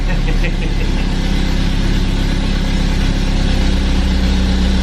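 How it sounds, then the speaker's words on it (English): A vintage van's engine idles loudly and steadily close by, a continuous rumbling drone with no voices over it. "I love the sound of this vehicle."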